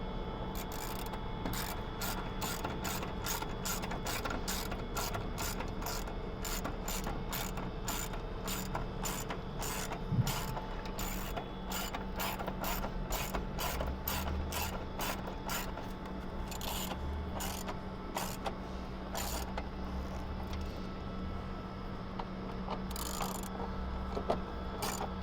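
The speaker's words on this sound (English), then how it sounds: "you're going to take the screws that you removed earlier and reinstall them into the bottom of the airbox" Small screws being driven back into the underside of a plastic airbox on a 2011-2016 Chevy/GMC Duramax LML 6.6L diesel, heard as a long run of rapid, steady ratcheting clicks from a hand tool, close and evenly paced throughout.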